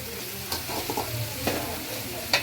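Onions fry in oil in a pan for a traditional side dish, giving a close, steady sizzle broken by a few soft stirring scrapes and light clicks; no speech.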